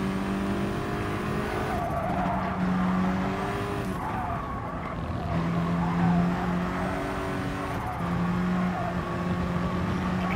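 Race cars lapping Suzuka in Gran Turismo Sport, with steady engine drones rising and falling through gear changes and several cars running close together.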